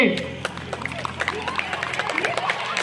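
Children clapping in rapid, uneven bursts at a Haldi-Kumkum competition, with dense hand claps over steady crowd babble and voices.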